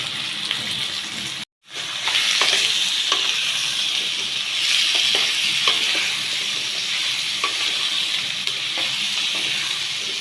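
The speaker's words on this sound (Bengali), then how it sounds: "আলু একটুখানি ভাজা হয়ে যাক, লাইট ব্রাউন কালার হয়ে যাক" Potatoes fry in hot oil while being stirred, producing a loud, close, unbroken sizzle with light scraping and bubbling texture, apart from one brief silent gap early on.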